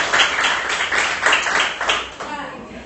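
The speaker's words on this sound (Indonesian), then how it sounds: "Oke, tepuk tangan untuk kita semua." Students in a classroom clap together in a dense, steady burst that lasts a few seconds and then thins out near the end, with some voices mixed in.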